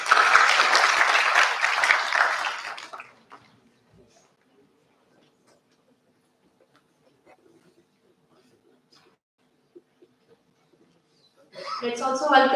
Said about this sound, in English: giving them a huge round of applause